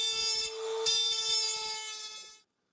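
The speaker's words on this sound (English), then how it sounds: "So out comes the Dremel." Dremel rotary tool grinding back a weld on a metal pannier frame, a close, loud high-pitched whine holding steady for about two seconds before cutting off abruptly.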